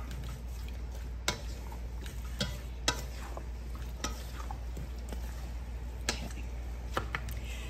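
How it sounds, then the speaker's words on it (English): Food stirred in a pan while making bruschetta, with scattered scraping clicks and taps from a utensil over a low steady hum, fairly quiet and without talk. "Give it a stir."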